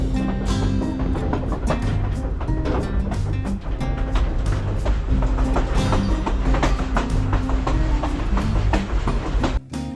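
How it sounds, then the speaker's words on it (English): A Grand Canyon Railroad luxury train rolls from Williams, Arizona, toward Grand Canyon Village on the South Rim, heard from outside the car as a loud, continuous rumble with rhythmic rail clatter and clanks. "we are on the Grand Canyon Railroad, going to the Grand Canyon, and this is a luxury train"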